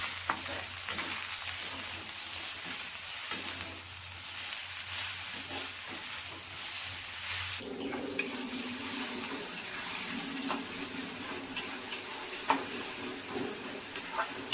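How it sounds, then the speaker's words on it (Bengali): Soyabean and potato curry with turmeric and chilli powder fries in a pan toward brown, giving a continuous close sizzle with scraping stirs, changing to a fuller, busier crackle about halfway through. "তো এটাকে ভালো করে আমি ফ্রাই করে নেব ব্রাউন কালার।"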